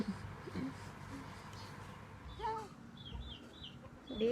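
Chickens cluck and call faintly in a farmyard, a few short clucks and brief higher calls scattered over soft outdoor background noise, distant and quiet.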